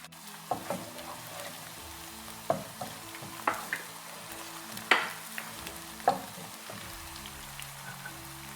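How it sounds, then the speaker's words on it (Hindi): Sliced onion fries in hot oil with a soft, continuous sizzle, broken every second or so by sharp scrapes and taps of a spoon stirring the pan. "अब इसको इतनी देर फ्राई करूँगी कि इसकी रंगत चेंज हो जाए।"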